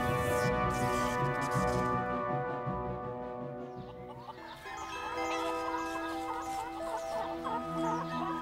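Chickens cluck and murmur nearby, several birds overlapping in a steady, moderately loud stream of clucks and short calls with no talking.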